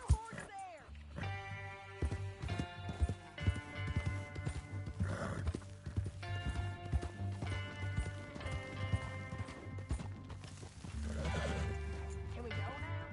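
Horse hooves clip-clop at a trot in the video game Red Dead Redemption, with a brief whinny, under background music and voices talking.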